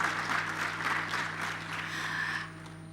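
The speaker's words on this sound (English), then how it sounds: "a round of applause" An audience applauds steadily at an airline industry event for a CEO after record profits, the clapping fairly distant and fading out near the end over a low steady hum.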